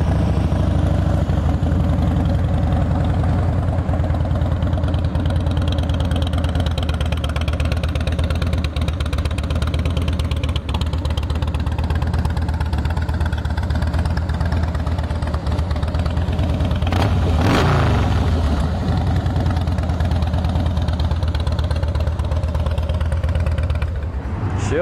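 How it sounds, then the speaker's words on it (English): A 2008 Harley-Davidson Fatboy FLSTF motorcycle with Python exhausts idles nearby, its deep, loping engine rumble loud and steady throughout, with a brief rise in revs near the end. "Let's listen to those Python exhausts."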